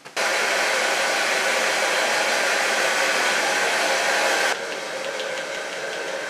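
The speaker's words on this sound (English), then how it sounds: "Now I'm going to blow dry it and then gonna style it." A hair dryer blows steadily and loudly on long bob hair, switching on with a brief start and running alone before dropping to a slightly lower, softer setting near the end.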